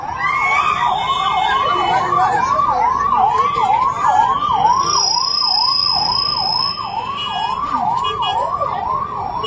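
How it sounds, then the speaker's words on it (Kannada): An ambulance siren wails in a fast, regular up-and-down cycle as it pushes through a crowd gathered for a public speech in Mudhol, loud and near, with faint crowd noise beneath. "ಆ ಆಂಬ್ಯುಲೆನ್ಸ್ ದಯವಿಟ್ಟು ಎಲ್ಲ ಜಾಗ ಕೊಡ್ರಿ"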